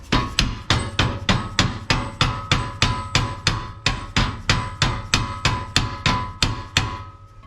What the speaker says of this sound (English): so just kick it. Get yourself a mallet